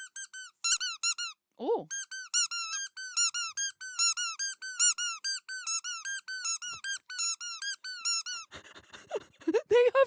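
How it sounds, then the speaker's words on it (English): Two squeaky rubber chicken toys squeak in rapid, loud, repeated bursts at close range, their rising and falling tones mixing, with a brief exclamation and some talk toward the end. "That means 2 little squeaky chickens."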